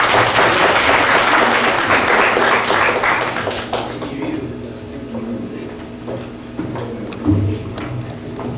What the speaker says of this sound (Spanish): pasamos a recibir con fuertes aplausos al doctor Walter Gutiérrez Camacho.